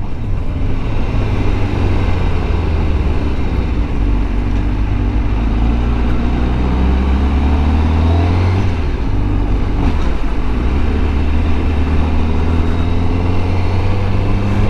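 A motorcycle rides along a road, its engine droning steadily and loudly throughout with low rumbling tones and wind noise, no talking.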